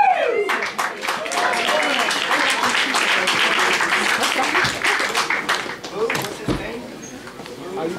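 Dense, sustained applause from a packed theater audience at an awards ceremony, many hands clapping steadily and loudly throughout, with scattered cheers and voices mixed in.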